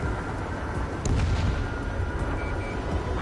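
A missile launches in the Ace Combat flight game, a dense roaring whoosh that swells briefly over a continuous loud jet-engine rumble.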